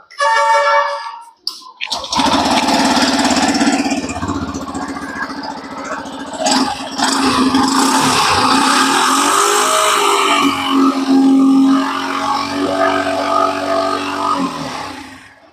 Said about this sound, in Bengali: তার আগে এক্সস্ট সাউন্ডটা আপনাদেরকে শুনিয়ে দিচ্ছি